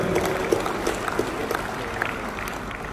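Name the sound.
audience applause for the Governor of Bali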